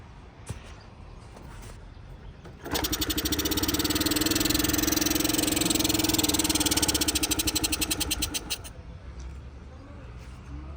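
After some quiet handling noises, a Honda Dio scooter engine with low compression suddenly roars to life, runs loudly with a rapid buzzing rhythm for several seconds, then abruptly stalls.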